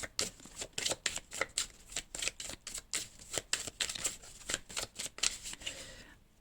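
Tarot cards are shuffled by hand in quick riffling bursts, a rapid run of papery flicks and slaps, close and fairly quiet, with no talking over them.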